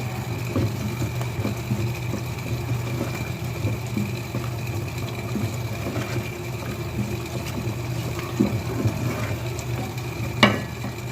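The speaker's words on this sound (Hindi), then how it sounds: "ये देखिए मसाला पक रहा है" Spiced minced meat masala with salt, red chilli, turmeric, coriander and biryani masala fries for keema biryani, a steady close sizzle and low rumble with scattered soft stirring scrapes and one sharp clink near the end.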